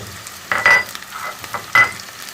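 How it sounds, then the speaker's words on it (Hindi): Ginger, garlic and onion fry in ghee in a pan, with a soft sizzle and two or three short bursts of stirring, close by, with no voices. "इसको 10 मिनट के लिए भून लेंगे।"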